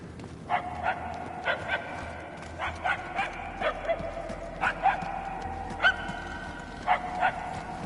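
Far-off dog barking comes in short bursts of two or three barks, spaced irregularly and fairly quiet over a low, continuous background hum.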